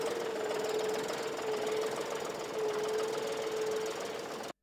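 Machinery runs steadily in a tractor assembly plant, producing a continuous loud mechanical drone with a rapid knocking rhythm and a sustained whine. It plays alone for several seconds before cutting off abruptly.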